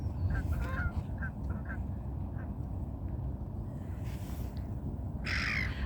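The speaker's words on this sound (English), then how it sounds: "I love seeing the geese in flight." Geese and other birds call in short honking bursts over steady low wind and traffic rumble beside a frozen lake at Crosby Marina, Waterloo, Liverpool, with a few calls louder near the start.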